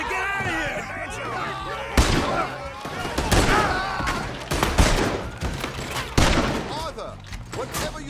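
Gunfire in the video game Red Dead Redemption 2, a chaotic shootout of sharp close shots at irregular intervals, with shouted voices and frantic talk over the din.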